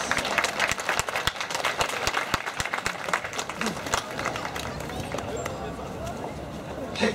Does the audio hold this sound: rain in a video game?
no